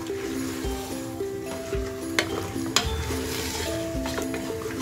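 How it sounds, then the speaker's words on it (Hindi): A spoon stirs spices and salt into goat head curry in a pot, with scraping strokes and a few sharp clinks against the metal over a faint sizzle and background hum. "अच्छे से सब चीज़ों को मिक्स कर लेंगे हम।"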